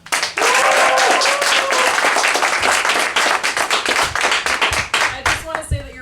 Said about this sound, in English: your applause is getting much better